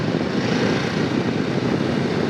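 Ducati Desert X motorcycle engine under throttle, pulling up through the gears without the clutch, a loud, steady, dense roar with wind rush and no voices.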